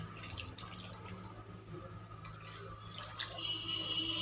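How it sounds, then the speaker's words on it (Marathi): Water is poured into a simmering curd potato curry in a home kitchen, a faint trickling and dripping heard close over low background hum. "ह्याच्यात आता पाणी ॲड करणार आहोत व्यवस्थित."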